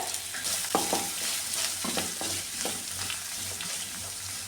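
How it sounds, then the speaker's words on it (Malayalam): Curry leaves, shallots, onion and dried chilli frying in coconut oil for a raw banana thoran, giving a steady close sizzle with repeated stirring scrapes and clinks throughout, no voices. "ഇനി ഇതിലേക്ക് കറിവേപ്പില ചെറിയുള്ളി സവാളയും വറ്റൽമുളകും കൂടെ അടിച്ചു കൊടുത്തിട്ടുണ്ട്"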